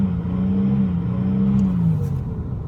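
Engine of a 1995 Buick LeSabre surging at about 80% throttle, a steady loud drone with pitch rising and falling as revs hunt, heard alone.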